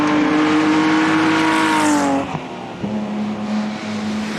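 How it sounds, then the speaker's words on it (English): A race-prepared Mercedes-Benz 300 SL at a Salzburg club event lets out a loud, close exhaust note, the engine holding a strong steady tone before dropping away, then settling into a lower drone. "The 300 SL, which sounds race prepared, continues to impress with its exhaust note and pace."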